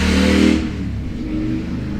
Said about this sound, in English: enjoy motorcycles rushing by, being loud while I'm trying to record